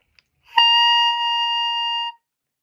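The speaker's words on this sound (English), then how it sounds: "the embouchure vibrate, and we get our first sound on the mouthpiece" A brass mouthpiece buzzed by a beginner's lips gives one steady, loud tone lasting about a second and a half, starting with a sharp attack and held evenly before stopping.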